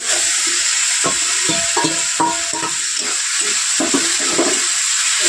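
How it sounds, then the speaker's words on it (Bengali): Spice masala and tomatoes fry in a pan with a loud, steady hiss, broken by a series of stirring scrapes and sputters close by, with no talk. "মশলাটা কষে নেবো, টমেটো সব দিয়ে নেবো একসঙ্গে।"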